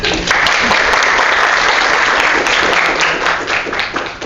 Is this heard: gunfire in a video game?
no